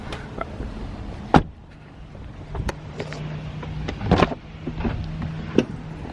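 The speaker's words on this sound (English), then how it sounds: "So you want to just close the door and then get back?" A Tesla car door thuds shut once with a single sharp close early on, followed by quieter interior bumps and a second cluster of knocks, with a steady low hum underneath.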